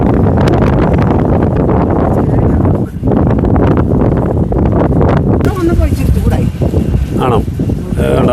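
Strong wind buffets the microphone outdoors on a cold hillside, a loud continuous roaring rumble with gusty surges and a brief dip, people talking faintly beneath it.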